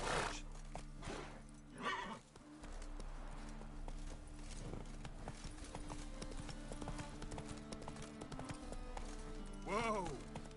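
Roach, a horse in The Witcher 3, gallops with steady clip-clop hoofbeats and neighs near the end, over in-game ambience and music, with a brief shout early on.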